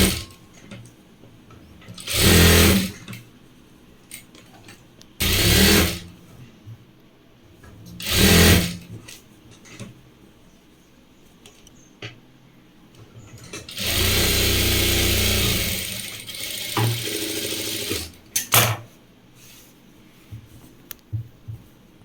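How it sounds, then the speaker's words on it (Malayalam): Sewing machine stitching a folded hem along pillow cover fabric, with three short loud bursts of stitching, then a longer steady run of several seconds and a brief final burst, separated by quiet handling pauses. "ഇങ്ങനെ മടക്കിയിട്ട് ഇങ്ങനെ വക്കടിച്ചു കൊടുക്കുക"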